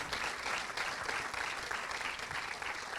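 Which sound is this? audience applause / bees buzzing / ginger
audience applause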